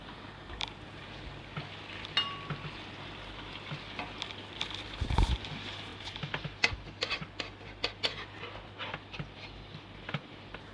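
Tomatoes fry in a pan for vegetable biryani, a soft continuous sizzle with scattered pops and crackles and an occasional stir, quiet and close with no talk.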